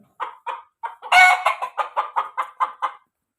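Roosters cluck repeatedly in a steady run of short calls, with one louder burst of crowing near the start; close and clear, no talking.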